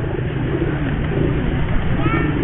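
Pigeons cooing at a roadside pigeon seller's stall in Bonang, Tangerang, low soft coos layered over loud, busy street noise and background bustle.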